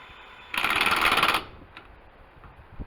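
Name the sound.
tightening lug nuts on a trailer wheel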